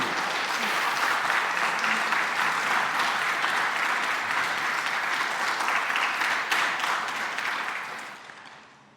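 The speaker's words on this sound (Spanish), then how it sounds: "dale un aplauso al Rey" A church congregation applauds in one sustained, loud wave of clapping, fading out over the last second.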